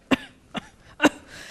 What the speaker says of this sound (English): you fake a cough like